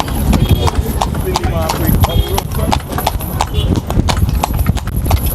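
Horse hooves clip-clop in a quick, steady rhythm on a street in Guyana, close and clear, while people talk over the clatter.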